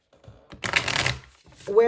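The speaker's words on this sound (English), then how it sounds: "This deck is kind of hard to shuffle, so I'm gonna break it up into a couple of different groups." Tarot deck being shuffled by hand, a dense riffling burst of card flicks in the middle, with brief rustles before it and a voice starting at the end.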